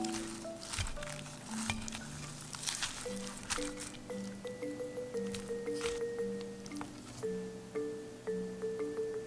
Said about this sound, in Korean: 드레싱 양이 넉넉하니까요. 맛을 보면서 필요한 만큼만 넣고 골고루 섞어서 맛있게 먹는 거죠.